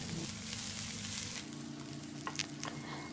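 Constant sizzling of dried red chillies and onion sautéing in a hot pan, with a low background hum and a few small scraping clicks from stirring.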